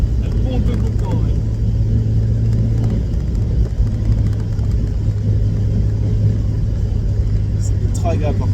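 A Mazda Miata with a limited-slip differential hums along at a steady, smooth engine drone with road rumble, while people talk inside the car throughout.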